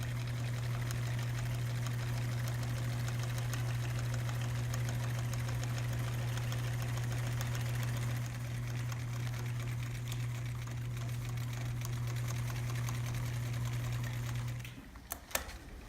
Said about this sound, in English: So now she's gonna sew the top stitching down that chalk line.